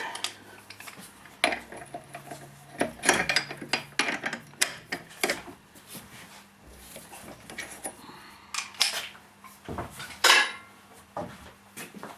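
A cylinder being unscrewed from a Soviet-era 12-ton hydraulic jack with a 22 mm socket and wrench: irregular metallic clinks, scrapes and ratcheting knocks, fairly quiet and close, with no talking.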